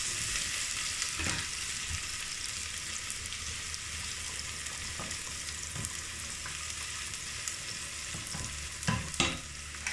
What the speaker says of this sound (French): j'ai découpé les oignons. Là, vous voyez, on va tout simplement les faire dorer un peu